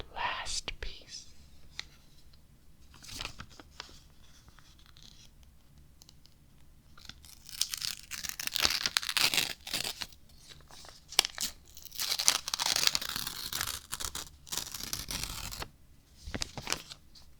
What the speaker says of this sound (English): let's go ahead and rip that last piece